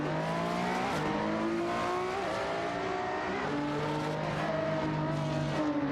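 Race cars dueling in a video game race, including a Ferrari FXX and a McLaren, roar continuously with engine tones rising and shifting as they pass, loud and close with no talk.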